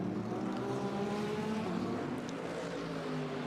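Mercedes and Porsche GT race cars in a Fanatec GT Europe race at Jeddah, running side by side into a braking zone, their engines roaring continuously and loud, with layered harmonic engine notes and no pauses.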